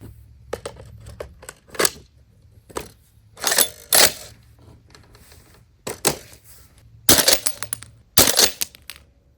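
A Barrett M107 airsoft gas blowback rifle fires BBs on CO2 with sharp, loud separate cracks and mechanical clacks, spaced irregularly a second or so apart against a quiet background.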